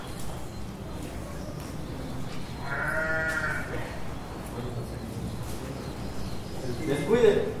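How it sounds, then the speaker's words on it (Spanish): Sheep and rams bleat in a staged Don Quijote de la Mancha theatre performance, a short wavering bleat rising briefly over steady room noise and stage ambience, with a fainter call near the end. "Vuélvase, vuestra merced, que esos son carneros."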